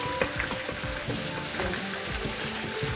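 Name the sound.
potatoes frying in hot oil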